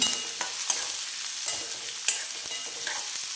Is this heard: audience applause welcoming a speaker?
no